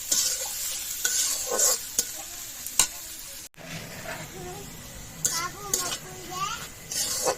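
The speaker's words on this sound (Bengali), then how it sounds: "এবার পেঁয়াজটা ভালো করে ভেজে নেব" Onions frying in a pan for a home-style egg and potato curry, a steady close sizzle broken by scraping stirs and a brief clatter of utensils, with faint children's voices in the background.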